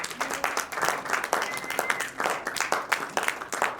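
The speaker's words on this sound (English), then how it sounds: "Let the clap go on." Audience clapping at a meeting on consumer psychology and ad creative, a dense, steady patter of many hands sustained close by throughout, with a few voices faintly mixed in.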